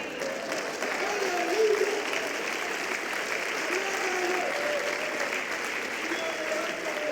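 A church congregation applauds in a steady, sustained wash of clapping that fills the room for several seconds, with faint voices mixed in beneath.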